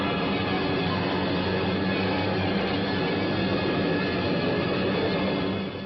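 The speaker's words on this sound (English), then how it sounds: "Jap bombers bored in." WWII Japanese bombers attacking, a loud, dense, continuous engine roar that stays steady and close throughout, with no voices.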